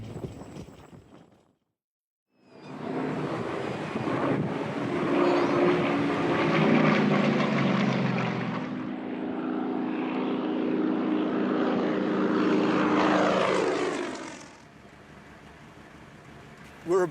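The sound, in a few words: propeller aircraft flying, stunt plane at airport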